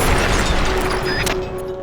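A C4 charge detonates in Metal Gear Solid: Peace Walker, a loud, sustained, broadband blast rumble that fills the whole moment and only slightly tapers at the end.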